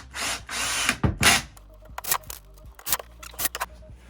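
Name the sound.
drilling screws into pine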